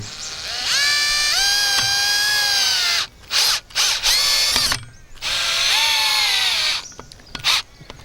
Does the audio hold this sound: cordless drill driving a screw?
yes